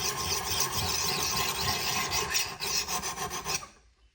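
A Chicago Cutlery santoku blade scrapes in quick, raspy strokes across the stones of a Wicked Edge sharpener, close and fairly loud, before stopping abruptly into silence.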